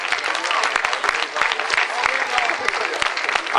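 Spectators at a beach volleyball event applaud the organizing association, brisk crowd clapping with sharp individual hand claps popping through, steady and energetic across the whole stretch.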